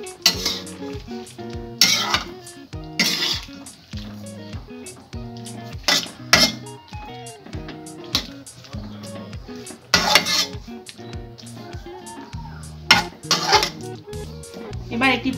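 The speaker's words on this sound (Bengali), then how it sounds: "সব ভালো করে মিশিয়ে নেব।" Mixed winter vegetable curry with ghee and chopped coriander is stirred in a pan, the spoon clinking and scraping against the metal in repeated loud strokes while a person talks over it.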